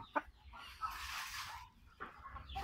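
A fighting rooster gives a few short, soft clucks close by, with quiet gaps and faint low background noise between the calls.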